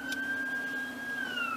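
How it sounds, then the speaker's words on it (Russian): An ambulance siren passes on a road while driving, a faint wailing tone gliding slowly downward over a steady car-interior engine hum, with no talk. "вон скорая едет."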